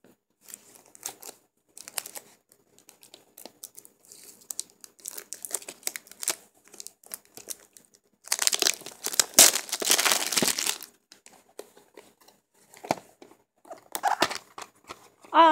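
A cellophane wrapper crinkles on a PSP game case, with scattered sharp crackles and a louder, denser burst of crumpling in the middle, close and fairly quiet.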